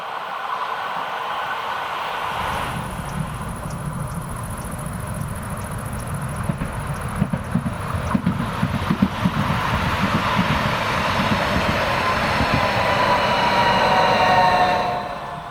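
A Rhaetian Railway train rolls through the Rhine gorge near Trin, with a steady rumble of wheels and rail clatter that swells as it passes close by and fades at the end, with no voices.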